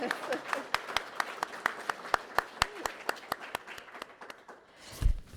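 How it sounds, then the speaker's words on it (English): Audience applause for a law and religion journal's managing editor at a university center's 40th anniversary event: a small group giving fairly sparse, distinct claps that thin out toward the end, followed by a brief low thump. "deserves a round of applause on his own"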